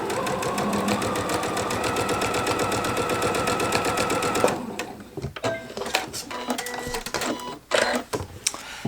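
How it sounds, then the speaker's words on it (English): A sewing machine stitches jelly roll fabric strips together in a steady rapid whir for several seconds, then stops, leaving soft fabric handling and light clicks. "I am just making a nice straight seam here."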